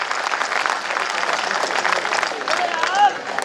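Audience applause at a Hindi comedy poetry recital (kavi sammelan) in Rajnandgaon, a steady wash of clapping that runs throughout with voices mixed in.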